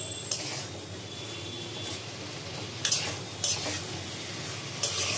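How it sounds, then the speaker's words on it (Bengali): Chana masala spices and tomato being sautéed in a pan, with a spoon scraping and stirring and a few sharp clinks against the metal over a low steady sizzle, close and fairly quiet, no talking. "এখন এবার আমি ভালো করে এটাকে কষিয়ে নেব।"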